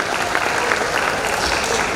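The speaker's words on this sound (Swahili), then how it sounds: "Makofi mengi sana kwake." Loud, dense applause from an awards ceremony audience at EJAT 2018, a steady wash of many hands clapping that fills the whole two seconds without a break.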